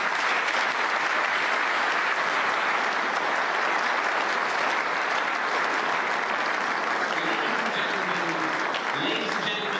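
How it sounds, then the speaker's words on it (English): Large audience at the Munich Security Conference applauding the Chancellor, dense and loud sustained clapping filling the hall throughout, with a faint voice surfacing near the end. "Let's give him a round of applause"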